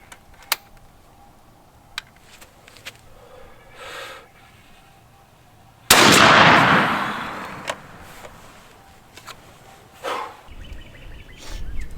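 A single loud shotgun blast of Federal Grand Slam turkey ammunition fires outdoors midway through, booming and then decaying, with quiet rustles and small clicks before and after it.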